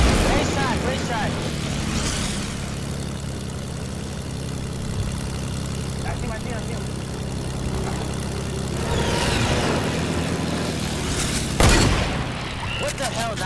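Explosions in a squad-based shooter video game: a continuous engine-like rumble underlies the scene, and a sharp, loud boom lands near the end, with voices talking over it.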